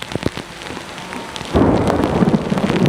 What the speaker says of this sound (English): I am in the middle of a thunderstorm.